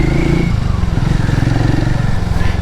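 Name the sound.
motorcycle engine running with a possible fuel pump fault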